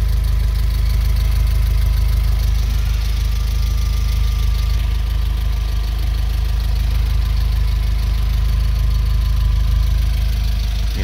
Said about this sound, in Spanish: Su motor muy parejito